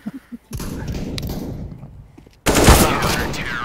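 Bursts of gunfire crack and rattle in Counter-Strike: Global Offensive, ending in a loud, close blast of rapid shots after a quieter stretch.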